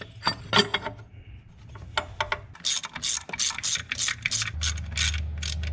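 A ratchet clicks in rapid, repeated bursts, tightening engine mount bolts on a Toyota MR2 SW20, close and crisp, with brief metallic clinks between strokes.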